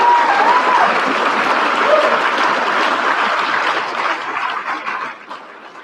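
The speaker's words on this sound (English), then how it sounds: "You applaud," Applause rolls through the room at an awards dinner, a loud sustained wash of many hands clapping that gradually thins and fades toward the end, with a few voices mixed in.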